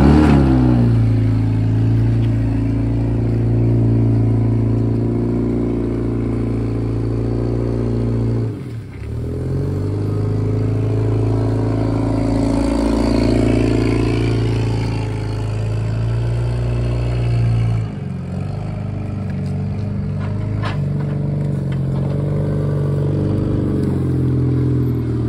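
A vehicle engine drives back and forth close by, its steady mid-pitched drone rising and falling in revs with a brief dip near the middle and another later, alone without speech.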